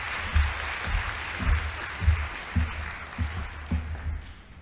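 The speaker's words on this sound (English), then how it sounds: "So a round of applause for the Minister of Science and Technology." Audience at a National Science Week launch applauding the Minister of Science and Technology, a moderate wash of clapping with low rhythmic thumps pulsing through it, tapering off at the end.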